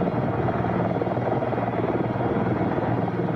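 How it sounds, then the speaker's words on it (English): A helicopter works on a high-voltage power transmission line strung across the Continental Divide, its rotor and engine giving a steady, loud, unbroken drone throughout with no voices. "These days, helicopters do much of the work once done by men and mules."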